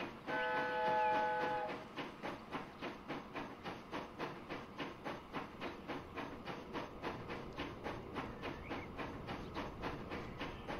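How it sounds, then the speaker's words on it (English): A train running along its route in Transport Fever 2, a steady rhythmic clickety-clack of wheels over rail joints with a soft hiss, starting with a brief horn-like tone, alone without talk. "let this train ride play out, assuming it doesn't break, and we'll see how the train does"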